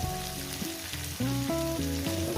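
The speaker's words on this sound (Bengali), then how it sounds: "তো বন্ধুরা ভালো করে আমি চার পাঁচ মিনিট ধরে এটাকে ভেজে নিয়েছি" Small river fish frying with vegetables in a pan, a constant close sizzle heard beneath a bright tonal music line that plays over it.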